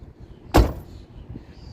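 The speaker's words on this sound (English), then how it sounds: "Listen when this door closes." The door of a 2011 Ford Crown Victoria swings shut with a single solid, heavy thud, close up and quiet around it.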